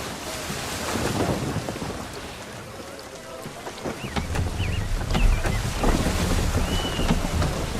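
A sailing ship under sail in the Assassin's Creed 3 video game, with rushing wind, creaking timber and splashing waves, the water surging louder partway through.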